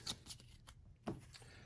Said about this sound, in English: Give those a good shuffle.